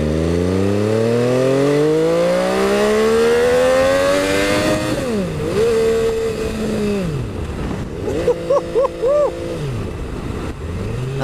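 An MV Agusta F3 800 superbike accelerates hard through the gears, its engine note climbing and dropping with each shift, then blipping and revving in short bursts, loud and close.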